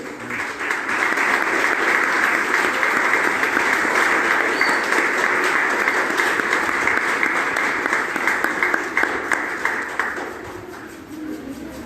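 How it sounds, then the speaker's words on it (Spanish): A church congregation gives a long, steady round of applause, dense and loud for about ten seconds before thinning out, with no voices over it. "Le damos un fuerte aplauso al Señor."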